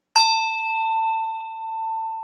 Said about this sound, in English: we're listening to my beautiful Tibetan bell with my dorji